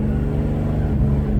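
A black Ram Mega Cab truck runs with a loud, steady exhaust drone and a deep, constant low rumble. The sound is close and unbroken, and no voices can be heard.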